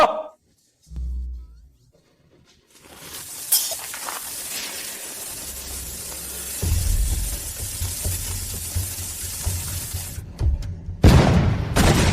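Ancient cannons firing in a Chinese costume drama: a deep low boom, a short quiet, then a sustained roaring blast with rumbling booms, a brief lull and a final loud burst.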